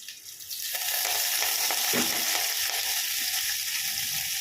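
Curry leaves and garlic fry in a pan for tomato rasam, giving a loud, continuous close sizzle with scraping stirs running through it and no voices.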